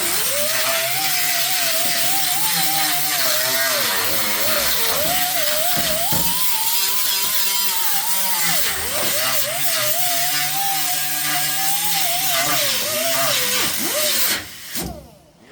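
An angle grinder bites into the steel body of a 1966 Ford Fairlane GTA, a steady loud whine with a wavering pitch that holds for about fourteen seconds before spinning down.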